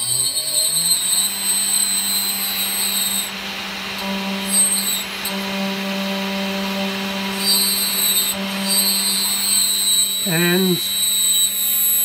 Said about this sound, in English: We'll turn the motor on, the mill.